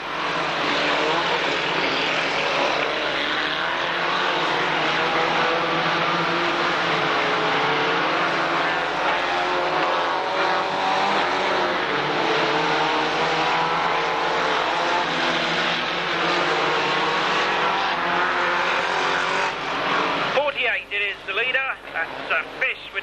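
Race cars run a circuit at a 1991 Braintree Auto Club van meeting, their engines droning steadily and fairly loudly beneath continuous commentary, with the engine note cutting away sharply near the end.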